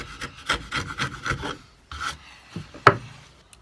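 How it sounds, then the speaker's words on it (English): A chisel pares waste wood from a corner halving joint, giving rough scraping and rasping strokes in quick irregular bursts, then a short pause and a sharper knock, close up with no talking. "You never go all the way across with your chisel because it might split out on this side."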